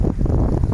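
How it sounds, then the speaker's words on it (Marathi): Strong wind buffets the microphone outdoors on a farm field during light rain, a steady low roaring rush with gusty swells throughout. "वारा बघा किती सुटलेला आहे"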